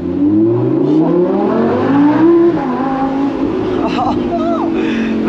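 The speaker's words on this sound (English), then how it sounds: "So pretty exceptional sound on this thing. Naturally aspirated V10, of course." A Lamborghini Huracan Spyder's naturally aspirated V10 revs hard and loud from the cabin, the pitch climbing and falling through the gears, with a brief tyre chirp near the end.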